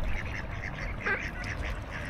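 Duck quacking near a city mall and playground, a few raspy nasal quacks over steady outdoor background noise.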